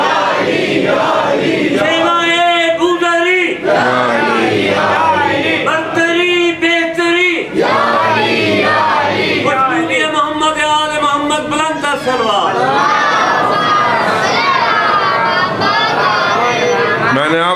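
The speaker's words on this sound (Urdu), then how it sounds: "ذرا تھوڑا سا استعمال کیجئے اور نعرہ حیدری" A large religious gathering at a Shaban celebration in Pakistan chants the Nara-e-Haidari slogan in loud, sustained unison, with rhythmic voiced phrases repeating throughout.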